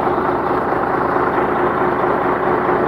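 Mercedes-Benz 1519 dump truck engine running at a low steady idle while the hydraulic pump raises the tipper body, a constant deep rumble with a faint whine on top, close and loud with no voices.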